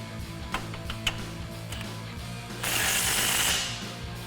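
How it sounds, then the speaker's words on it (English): A 15mm socket ratchet and an 18mm wrench tighten the nuts on a lower shock mount bolt during a coil-over install on a 2011–2023 RWD Dodge Charger, with close metallic clicks and then a rapid burst of ratcheting. "we'll tighten them down with our 15mm socket and our 18mm wrench."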